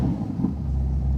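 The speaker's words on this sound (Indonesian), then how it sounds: "Kita nyalain dulu mesinnya." A 2024 Ferrari Roma Spider engine turning over and catching, a deep low rumble that settles into a steady idle, loud and close with no voices.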